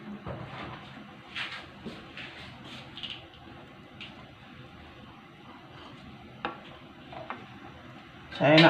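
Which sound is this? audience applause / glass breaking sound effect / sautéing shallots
sautéing shallots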